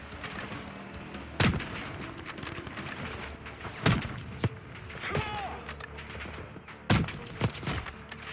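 Cover fire in the Black Ops 6 video game: several loud, sharp gunshot bursts crack out at irregular intervals over a low battle ambience, with a few quieter distant shots between them.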